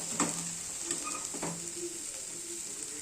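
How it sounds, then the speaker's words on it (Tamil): Mutton being stirred into gravy in a pan, a soft steady sizzle with occasional scraping stir strokes, close and fairly quiet, with no talking. "நம்ம மட்டனை போட்டு கலக்கிட்டால் மட்டன் கிரேவி ரெடி ஆகிடும்"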